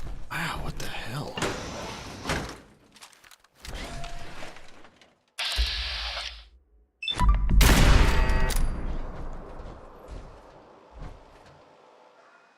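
Turret gunfire in Fallout 4 bursts in with loud, crackling rattles and shattering impacts, starting and stopping in several blasts, the heaviest barrage arriving midway, with a voice talking in between.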